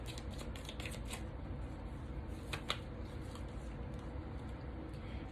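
Stay Positive tarot-style cards shuffled by hand, producing soft repeated riffling and flicking bursts, quiet and close, with a steady low background hum underneath.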